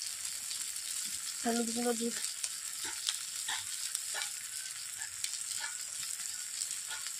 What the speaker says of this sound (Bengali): আদা রসুন পেঁয়াজ একই সঙ্গে ভেজে নিয়েছি